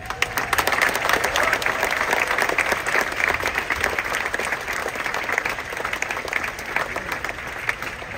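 A dining room audience aboard the Royal Caribbean cruise ship Odyssey of the Seas applauds the chef, dense sustained clapping from many hands filling the room, with little talk.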